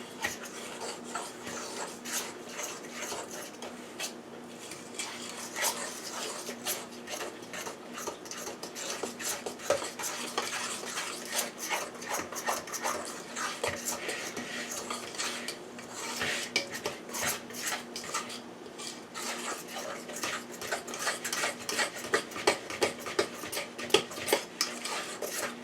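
Gluten-free streusel ingredients being stirred together with melted butter in a mixing bowl, a steady scraping and clinking of utensil against bowl running continuously, fairly close, with no talking.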